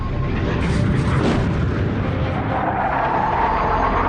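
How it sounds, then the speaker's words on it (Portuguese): A supersonic jet breaking the sound barrier, heard as a deep, continuous rumbling boom that rolls loudly and evenly throughout with no voices. "um avião supersônico quebrando a barreira do som"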